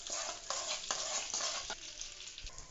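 Green chilies, cinnamon sticks and bay leaf crackle in melted butter in a pan, a steady soft sizzle broken by faint stirring clicks, with no talking.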